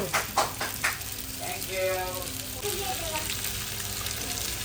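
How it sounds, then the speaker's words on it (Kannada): Mackerel (bangude) sizzles in a frying pan. A few sharp clatters come first, then a soft, steady fry hiss that carries on at a low level. "ಮಧ್ಯಾಹ್ನದ ಭೋಜನಕ್ಕೆ ಮೀನು ಫ್ರೈ ಆಗ್ತಾ ಉಂಟು"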